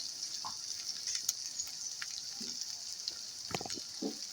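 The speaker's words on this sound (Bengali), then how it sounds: "ভালো করে পেঁয়াজের সঙ্গে একটু কষিয়ে নেব" Onions and spices sizzling in a frying pan, a soft steady hiss with occasional faint stirring clicks and scrapes, no talking.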